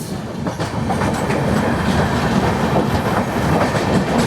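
The Okha Bilaspur Express runs steadily past at close range with a dense, continuous rumble and rattle of wagons, and a rhythmic clickety-clack of wheels over rail joints, with no talk.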